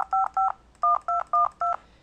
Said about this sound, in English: We can bring up the dial pad and make a simple call.